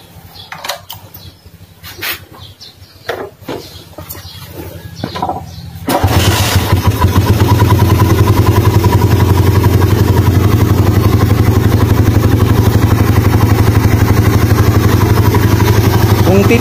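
A motorcycle engine fitted with a UMA flatslide carburetor, jetted 125/35, fires up after a few quiet clicks and fumbling sounds, then settles into a loud, steady, even idle close by.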